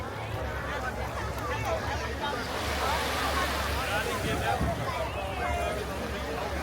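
Steady rush of Caribbean ocean surf washing onto a beach, with wind buffeting the microphone throughout.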